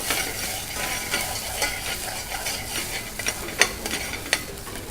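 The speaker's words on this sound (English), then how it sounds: "You fry the onions properly till it's started to change the color." Onions fry in a pan with a steady crackling sizzle, broken by a few sharper pops and stirring scrapes near the end, close and alone with no voices.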